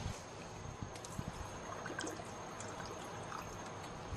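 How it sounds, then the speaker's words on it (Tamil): Water poured into a pot of cooking greens, a soft steady trickle and splash running throughout, with faint clinks and bubbling in a kitchen. "இன்னும் நம்ம ஒரு 1/4 லிட்டர் போல தண்ணி ஊற்றிக்கலாங்க."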